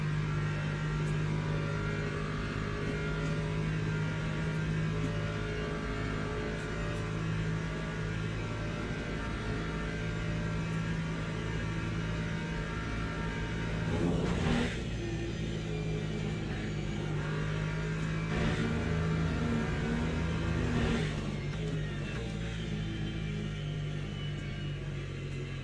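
Lexus race car engine in a racing video game, a low steady droning hum held fairly quietly under the mix, with a few brief swells in pitch as the car accelerates.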